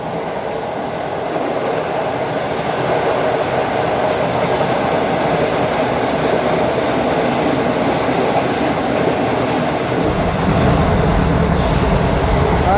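Shalimar Express train rolling toward Lodhran Junction, heard from inside an AC Standard coach: a continuous loud rumble with faint rail clatter that grows heavier and deeper near the end.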